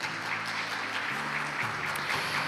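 A conference audience at a semiconductor technology event applauds steadily as a company vice president is welcomed to the stage, a dense continuous wash of clapping with faint tonal background music beneath.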